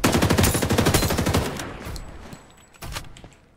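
Rapid automatic gunfire in the battle royale shooter Farlight 84, a loud dense burst for about a second and a half that tails off, followed by a couple of scattered single shots.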